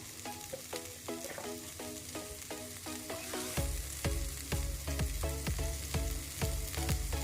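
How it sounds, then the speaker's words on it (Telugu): A vegetable stir-fry with mustard seeds, cumin, urad dal, garlic and curry leaves crackles and sizzles loudly in a pan, with regular clanks of a ladle stirring it throughout and no voices. "ఆవాలు జీలకర్ర మినప్పప్పు తెల్లగడ్డ కరివేపాకు ఇవన్నీ ఫ్రై చేసిన తర్వాత ఇది వేసి మీరు బాగా ఫ్రై చేసేసేయండి"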